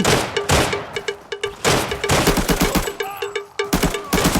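Automatic weapon fire in the shooter game Arena Breakout, rapid loud bursts of gunshots in quick rhythmic strings with short gaps, close and dominant with no talking.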